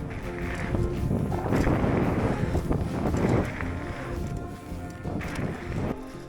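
Gusts of wind buffet the microphone in rough, rumbling waves, swelling and easing over several seconds with no voices.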